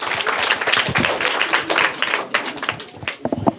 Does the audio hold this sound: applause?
yes